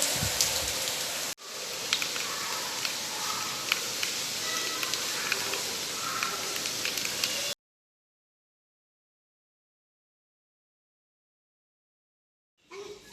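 Heavy rain pours down in a steady, dense hiss with scattered drop patters, close and loud, then cuts off abruptly into silence.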